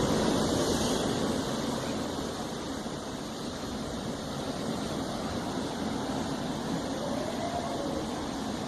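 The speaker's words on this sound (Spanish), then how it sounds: "El mar de fondo." Ocean surf rolls in as a continuous broadband wash, a steady loud roar of waves and wind across the whole stretch without any clear break or speech on top.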